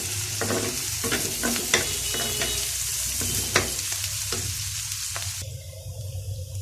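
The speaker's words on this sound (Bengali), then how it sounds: "পেঁয়াজটা ভাজা হোক মোটামুটি একটুখানি ভাজা হইলেই" Onions fry in a hot pan with a steady sizzle, broken by repeated scraping and knocking strokes of a spoon stirring them, close and continuous with no talk.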